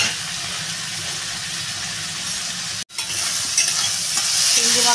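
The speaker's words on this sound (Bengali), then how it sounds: "মাছটা ভালো করে ভেজে নেব।" Prawns fry in a pan for a home-cooked gourd and prawn curry, giving a steady close sizzle with stirring that cuts out briefly midway and then resumes slightly louder.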